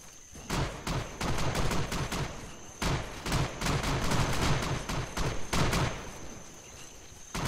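Sustained friendly gunfire in the military shooter ARMA 3: dense, irregular bursts of rifle and machine-gun shots crack back and forth for several seconds, loud and close, with short gaps between volleys.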